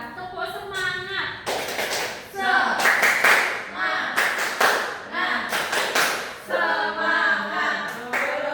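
A primary school class claps a rhythmic spirit clap in repeated bursts of quick patterned claps, with children and a teacher chanting along between and over the claps.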